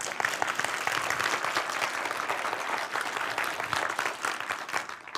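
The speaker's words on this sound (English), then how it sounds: "can you give me a big applause" A conference audience in a lecture room claps loudly and steadily for several seconds, a dense, continuous burst of many hands that fades slightly near the end.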